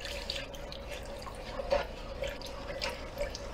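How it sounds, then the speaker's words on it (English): Hot tap water trickles and drips into a pan for a chopped steak gravy, a faint, steady liquid patter with a few small splashes and no talking. "I'm going to add some water to this pan."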